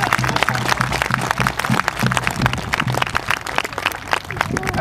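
A live audience claps to honor pipe band members, including a drummer of sixty years, with steady, dense applause filling the room from start to finish amid some crowd noise.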